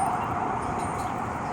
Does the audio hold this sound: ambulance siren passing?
yes